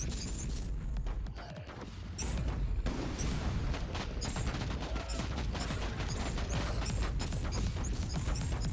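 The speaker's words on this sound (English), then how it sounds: "let's start off with a barrage about there" Plasma cannon barrage in the game Warhammer 40K: Inquisitor - Martyr, a dense run of rapid booming blasts and crackling impacts that keeps going loud and steady throughout, with a short dip before the firing resumes.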